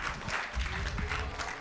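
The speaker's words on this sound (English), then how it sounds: "Clap for him." An event audience at an innovation hacklab claps for a winner, a short burst of fairly close, steady applause with a voice heard briefly through it.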